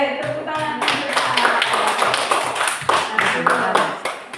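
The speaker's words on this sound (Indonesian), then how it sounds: "Oke, tepuk tangan untuk" Students in a third-grade classroom clap together after a classmate shares a story, a dense burst of applause that carries on steadily for several seconds.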